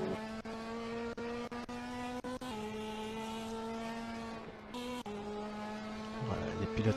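Ferrari Challenge race car at Imola circuit in 2018, engine droning steadily at a held pitch while warming its tyres, with brief gear-change dips and another engine passing near the end; no talk.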